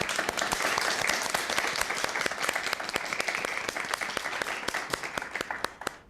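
A dense round of applause from an audience greeting a church music ministry, steady and fairly distant, with many hands clapping in a continuous patter that fades slightly at the end.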